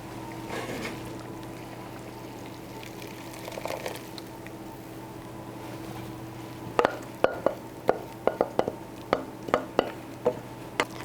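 Chopped barbecue pork is mixed with barbecue sauce, starting as low wet stirring under a steady background hum, then turning into a series of sharp knocks and scrapes of a utensil against the pan toward the end.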